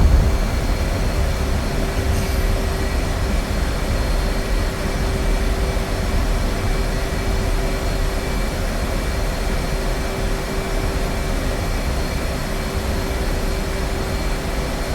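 An F/A-18C jet in the DCS flight game lands and rolls out on the runway, a loud, steady, broadband engine roar with a faint constant tone, unbroken and without talk.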